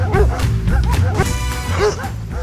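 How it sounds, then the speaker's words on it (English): A couple of dogs bark and yip repeatedly while chasing, loud and close, with a rapid run of excited barks over a few seconds. "Chased by a couple of dogs, but I out-sprinted those."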